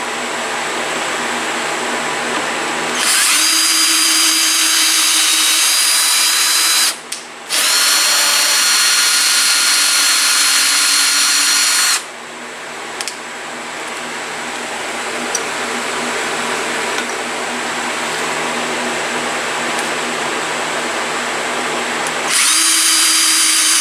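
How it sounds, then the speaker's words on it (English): A power drill drives a tap through threads in a cast iron bracket, whirring loudly in long steady runs with brief pauses and restarts and a slight pitch change under load, close and without speech. "This cast iron tap's pretty easy."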